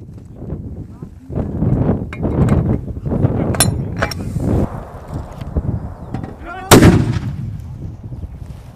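A 120mm mortar fires with a sharp, booming blast near the end during military live-fire training, preceded by rumbling movement and voices calling out commands in Czech nearby.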